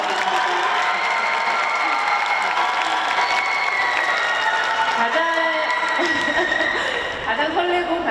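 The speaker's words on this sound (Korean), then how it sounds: "여러분 큰 박수 부탁드립니다" Audience at an open talk event at the Busan International Film Festival bursts into sustained applause with scattered cheers and whoops, a dense crowd roar filling the room for several seconds.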